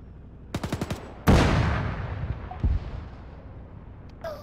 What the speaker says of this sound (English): How's the artillery going up there, boys?